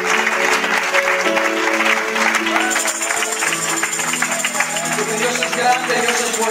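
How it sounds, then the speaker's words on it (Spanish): A church congregation claps in praise during a Spanish-language worship service, with rhythmic clapping mixed with voices and sustained musical tones in the background. "Dele palmas al Rey"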